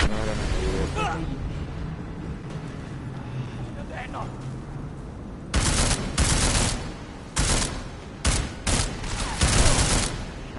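Gunfire bursts in Deus Ex: Mankind Divided, several loud sharp shots in quick clusters over the last half, after quieter game ambience and low music.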